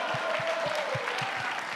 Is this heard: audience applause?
yes